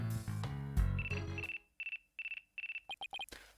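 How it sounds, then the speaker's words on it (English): A phone rings in Ace Attorney: Dual Destinies, loud and close, with repeated electronic trills in short even bursts and then a quick run of chirps, following a dense stretch of music. "Looks like I have a phone call."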